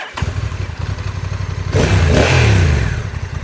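A 2022 Honda NT1100 motorcycle idles with a steady, close, loud throb, then the engine is revved sharply, rising and holding before settling back.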